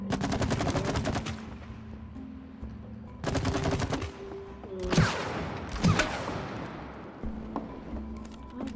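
Gunfire from the It Takes Two video game crackles in rapid bursts and single sharp shots, loud and close, broken by short pauses with game ambience underneath.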